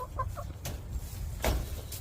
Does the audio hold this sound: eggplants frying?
no